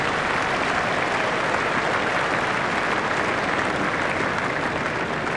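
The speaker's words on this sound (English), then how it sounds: "the crowd is giving them a decent reception" A cricket crowd at an England versus New Zealand T20 match applauds as players emerge, a dense continuous wash of clapping heard from within the stands.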